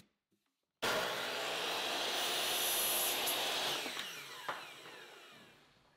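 A power saw bites through wood against a sacrificial fence, starting abruptly and holding a loud, steady whine for several seconds before tapering off near the end.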